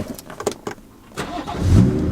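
A manual-transmission car on a salvage auction lot cranks over with a few clicks and clunks, then its engine catches and settles into a steady low rumble, close and fairly loud with no one talking.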